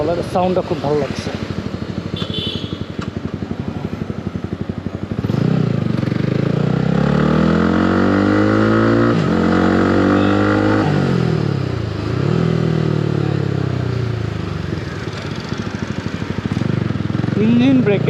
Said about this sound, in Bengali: ইঞ্জিন ব্রেকে যে সাউন্ডটা হয় বুম করে বেশি ভালো লাগছে